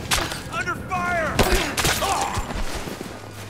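Gunfire in Rise of the Tomb Raider, a few sharp close shots and thuds scattered across a busy moment, mixed with shouting voices and other in-game effects.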